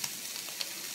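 Squid stir-frying in a pan over high heat, giving a loud, steady hiss and sizzle with a couple of faint tool taps and no speech.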